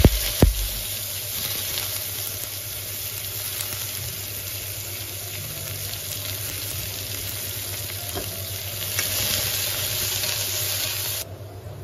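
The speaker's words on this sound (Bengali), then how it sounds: "পেঁয়াজগুলো লাল লাল করে ভাজা হয়ে গেছে।" Chopped onions frying in oil, a steady close hiss and crackle that holds evenly for the whole stretch with no voices.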